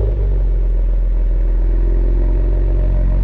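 Idling engine of a 2020 Ford Explorer ST fitted with a Borla S-type exhaust, a steady deep low rumble held near and loud throughout, with no talk over it.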